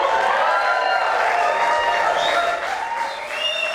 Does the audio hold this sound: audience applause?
yes